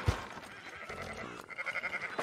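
A sheep in Red Dead Redemption 2 gives a short, wavering bleat toward the end, preceded by a soft thump and quiet ambience, fairly faint and heard alone.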